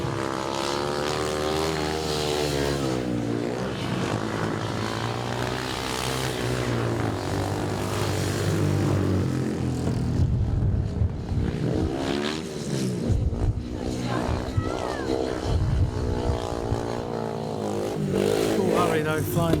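Racing motorcycles roar loudly and continuously past on a circuit during a memorial race meeting, one rider lifting into a wheelie on the last lap, engines rising and falling with a commentator talking over the din.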